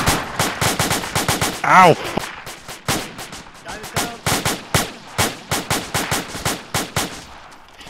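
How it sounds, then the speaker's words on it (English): Rapid bursts of AK rifle gunfire crack out in a steady, evenly spaced rhythm, loud and fairly close, with a brief shout of pain cutting in partway through. "AK fire to the west, right over the hill."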